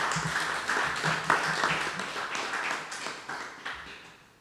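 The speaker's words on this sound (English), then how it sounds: "Could we give them a round of applause?" Audience applause at the handing-over ceremony of the Salem Community Centre, a moderate, steady patter of many hands clapping through the whole stretch, somewhat soft and diffuse, with no talk over it.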